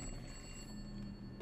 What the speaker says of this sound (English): The phone is finally ringing?